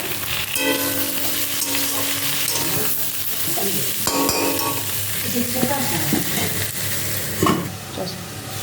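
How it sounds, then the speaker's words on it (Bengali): Potatoes and ridge gourd frying in a pan make a continuous, close sizzle, with occasional clinks and scrapes of a utensil against the pan. "এখানে আলু আর ঝিঙেটা ভাজা হয়ে গেছে"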